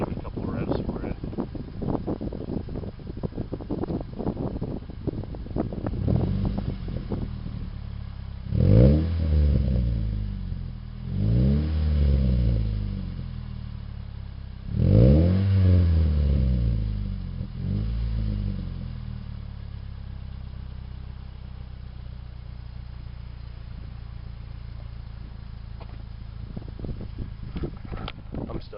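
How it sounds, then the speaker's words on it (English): A 2009 Toyota Yaris base with a new Tanabe Medallion exhaust idles, then is revved twice in clear swells that rise and fall, with a few smaller blips; someone talks over the idle before and after. "Give it a couple revs for it."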